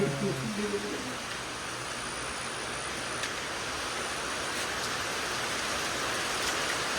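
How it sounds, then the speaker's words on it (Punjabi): Steady rain falling while the sun shines, an even broadband patter throughout, with a brief low murmur of a voice at the very start. "ਧੁੱਪ 'ਚ ਮੀਂਹ ਪਈ ਆ ਰਿਹਾ ਆ"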